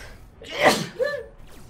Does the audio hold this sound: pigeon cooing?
no